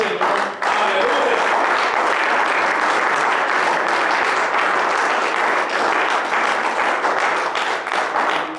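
A church congregation bursts into loud, sustained applause for the Lord, dense clapping carrying on steadily for several seconds with crowd voices mixed in.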